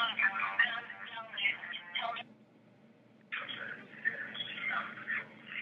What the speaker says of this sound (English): Come on, pick up your phone